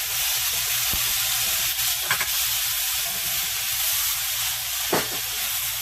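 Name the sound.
red peppers sizzling in avocado oil for fried rice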